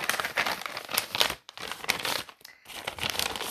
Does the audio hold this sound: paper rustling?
yes